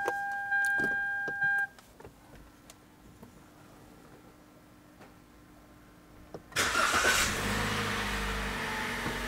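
A Toyota Rush G automatic starts up after a few soft electronic beeps and a quiet stretch. The engine catches loudly and settles into a steady, close idle rumble.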